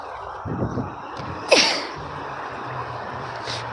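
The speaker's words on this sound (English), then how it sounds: "I have to sneeze." A single sudden sneeze bursts out after a short breathy intake, loud and close, then quiet background hum returns.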